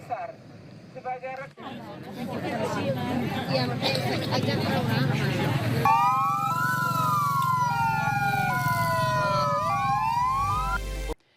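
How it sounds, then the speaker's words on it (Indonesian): Three ambulances sound their sirens together as a mourning tribute at a candlelight vigil, with wailing, sweeping tones rising and falling over a crowd's murmur and steady background noise. "Penyampaian orasi diakhiri pembunyian sirine dari 3 ambulans, simbol duka cita mendalam."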